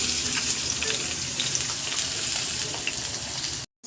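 Whole spices and onions go into hot oil for chicken biryani, setting off a close, busy sizzle with scattered pops and crackles that continues steadily before stopping abruptly.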